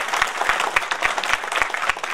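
Audience applause at a reunion and rain-welcome gathering, a steady wash of many hands clapping throughout, fairly loud and close, with no talk over it.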